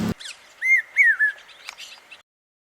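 A pied cuckoo (papiha) calls with a few clear, ringing whistled notes that rise and fall, close and alone, and then stops into silence.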